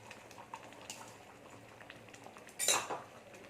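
A spoon stirs a pot of idli sambar, giving light metallic clinks and scrapes at a low level with one louder clattering stir near the end.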